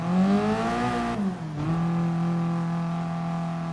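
A race car engine revs in a racing video game, a loud sustained harmonic drone that climbs, dips briefly and then holds steady at a high pitch, close and without talk.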